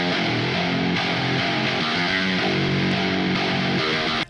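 A heavy distorted metal guitar riff in the style of Doom Eternal churns loudly and continuously, thick sustained low chords shifting through a short pattern without any voices.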